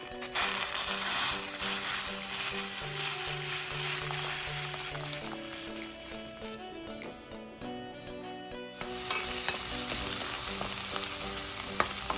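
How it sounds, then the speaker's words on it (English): Onions and garlic sauté in a pan for dolma, a steady sizzle with occasional stirring scrapes, briefly quieting before the frying surges louder again. "So here I have my onions and garlic sauteing."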